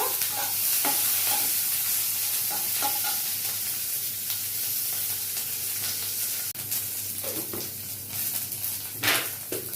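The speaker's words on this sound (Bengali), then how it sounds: "আমি ক্যাপসিকামটা একটু নেড়ে চেড়ে নেব, দিয়ে এটাও তুলে নেব" Capsicum stirred and frying in a pan during a potato curry, with a steady sizzle throughout and scattered scraping clicks of a spatula against the pan, louder knocks near the end.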